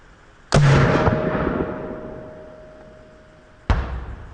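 X Products Can Cannon launching a spray paint can outdoors about 50 yards from a backstop: one sharp, loud blast with a long decaying rush, then a second sharp impact thud about three seconds later.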